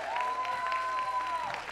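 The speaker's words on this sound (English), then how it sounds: "Clap it up for that." Comedy club audience applauding a stand-up comedian, a dense steady wash of clapping lasting under two seconds at even loudness, with a faint sustained tone running beneath it.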